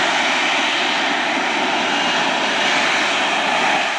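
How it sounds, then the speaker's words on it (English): Harrier jet engine roaring loud and steady, a dense continuous rush close by with no letup. "God, the Harrier jet's very loud."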